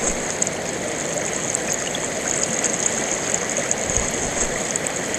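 Water flowing through a gold sluice box in a UK stream, a steady close rushing and gurgling wash with a bright hiss, continuous and even throughout with no talk.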